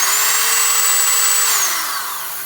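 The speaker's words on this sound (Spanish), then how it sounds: "le voy a dar al puro taladro para que oigan el ruido del taladro" An electric drill spinning freely during a water pump check, a loud steady high-pitched whine that holds, then winds down and fades as the motor is released.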